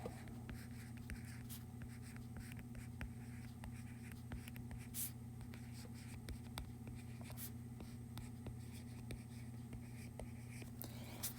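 A marker writes in red on a board in a classroom, with faint, steady scratching strokes and occasional taps over a low hum of room noise; very quiet and close.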